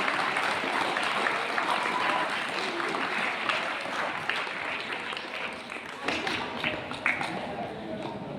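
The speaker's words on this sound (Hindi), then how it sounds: "जोरदार तालियां बजाएंगे।" A crowd at an Independence Day speech applauds loudly and steadily, the clapping lasting several seconds with scattered sharper claps and taps, and voices are heard over it.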